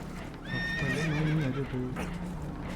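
Spooked horses whinny loudly in Red Dead Redemption 2, a close, shrill, quavering neigh lasting about a second amid clip-clopping hooves and background game noise aboard a boat.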